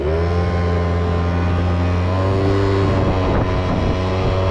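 A 2008 Yamaha Zuma 50 two-stroke scooter rides uphill, its engine buzzing loudly and steadily close by, with wind rushing past and the pitch shifting slightly as it climbs.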